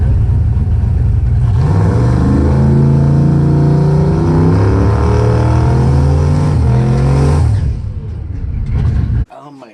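Loud, close engine roar of a nine-second race car making a quarter mile pass at a track day, with stepped rising pitch through gear changes before cutting off abruptly near the end.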